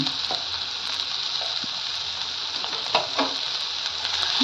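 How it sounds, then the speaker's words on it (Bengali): Food with a little sugar and salt stirred in a hot pan for an evening snack, a steady bright sizzle with scattered scraping stirs of the spoon, close and continuous without talk. "ভালো করে মিশিয়ে নিচ্ছি।"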